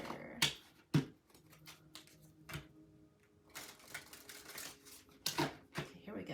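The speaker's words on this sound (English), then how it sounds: "Last shuffle, and then I'll get your answer." Tarot cards are shuffled in close, sharp bursts of riffling and slapping, with quieter card shuffling between the louder flurries.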